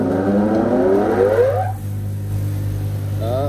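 An original, unmodified 220 V Makita 9306-3 double-wheel bench grinder spins up with a rising whine, then settles into a smooth, steady hum that continues alone at close range.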